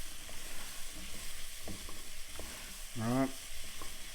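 Mushrooms frying in a pan on heat just under medium, a steady soft sizzle with stirring scrapes, a brief voice cutting in near the end.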